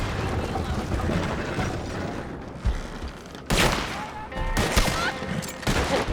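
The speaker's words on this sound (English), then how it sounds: "But I hear gunshots" Gunfire in the video game Red Dead Online: rapid volleys of shots crackle over a dense background din, with several sharp, loud bursts standing out in clusters, and a voice speaks faintly underneath.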